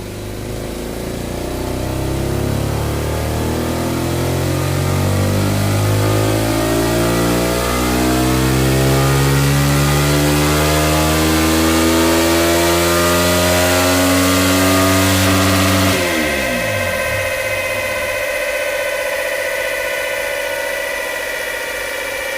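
A loud 125cc Ace of Spades motorcycle engine on a dyno revs steadily higher at full throttle for a long stretch, then hits the rev limiter and the pitch drops sharply as it cuts back.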